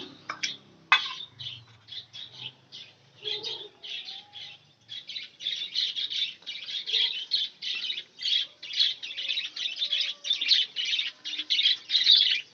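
Caged pet budgerigars chattering and squawking in rapid bursts, a busy run of close, bright calls that grows more continuous after a quieter start.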